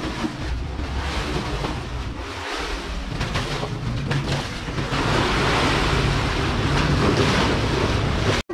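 River Thames water beside Tower Bridge in London, a continuous wash of lapping water mixed with strong wind buffeting the microphone. The wind noise grows louder toward the end, and nobody speaks.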